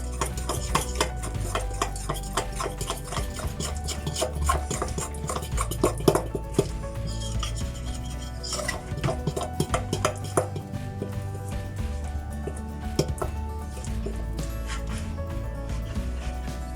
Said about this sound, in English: All we do is mix.